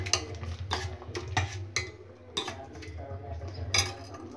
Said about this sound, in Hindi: लहसुन को मिक्स कर देते हैं साग में